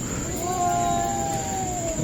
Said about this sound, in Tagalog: nag-aaway pang pusa